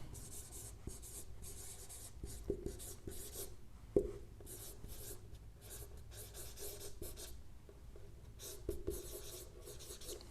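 Pen writing by hand on paper, a steady soft scratching with short strokes and a small tap partway through, close and quiet, with no voice.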